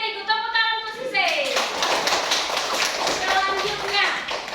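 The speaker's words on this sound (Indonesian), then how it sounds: "Tepuk tangan untuk Sise." Children clapping together in a classroom, a dense burst of hand claps that starts after a sung or spoken phrase and continues steadily, with a voice mixed in.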